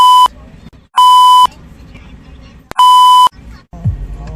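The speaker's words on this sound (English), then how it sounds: "I'm gonna have to bleep that out." Three loud censor bleeps, each a steady electronic tone lasting about half a second, cut sharply into casual speech during a vlog recorded while sitting in a car.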